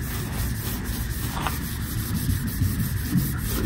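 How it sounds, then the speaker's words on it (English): A car part is scrubbed clean during prep for a car modification. The scrubbing is a close, steady, rough rubbing that runs through the whole short stretch without pause. "Scrub it, scrub it, scrub it."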